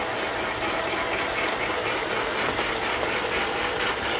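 A 1939 Sheldon lathe runs with its power feed engaged, giving a continuous close mechanical whir with a fine rapid ratcheting, gear-like texture that holds steady throughout.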